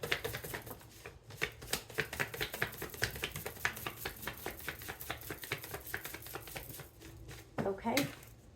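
Rapid crisp riffling of playing cards being shuffled, a fast train of sharp flicks lasting several seconds, ending with a brief pause and a softer tap.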